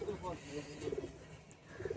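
Madrasi ablak high-flyer pigeons coo in about three short, soft throaty bursts, faint and spaced out against a quiet background.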